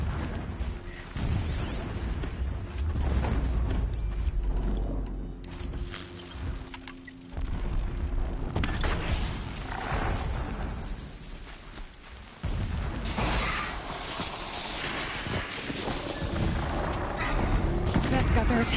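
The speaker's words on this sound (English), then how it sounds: "Explosions in the distance." Distant explosions rumble in Horizon Zero Dawn, repeated booming blasts and crackling bursts layered with music and game sound, with voices talking over parts of it.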